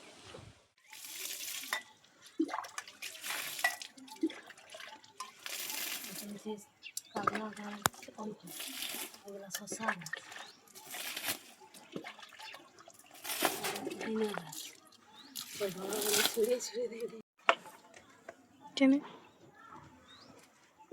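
Water is poured onto kitchen garden vegetable plants in repeated short splashing bursts, some louder and some fainter, while a person talks throughout.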